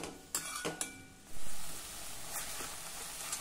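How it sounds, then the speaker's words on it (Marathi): Spring onion greens cooked with moong dal sauté in oil in a pan over medium heat, with a steady soft sizzle broken by a few sharp clinks and scrapes of the spoon early on. "मध्यम आचेवर त्याला छान तेल सुटेपर्यंत जरा 2 मिनिट आपण ही भाजी परतून घेऊ"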